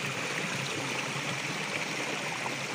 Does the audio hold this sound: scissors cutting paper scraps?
no